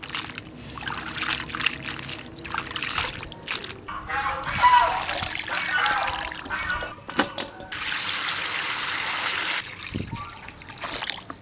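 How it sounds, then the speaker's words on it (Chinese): Sun-dried radish strips dusted with yellow grit are rinsed in water in a rural kitchen, with splashing, trickling and pouring sounds up close, a steadier stream of running water near the end. "萝卜干外面晒了几天了，上面有黄尘了，往进洗一下再泡。"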